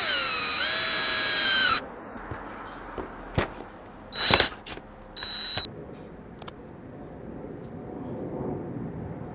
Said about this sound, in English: The locking mechanism was assembled by drilling in a 1/4-inch hole